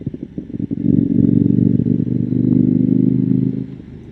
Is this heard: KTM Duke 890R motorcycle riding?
yes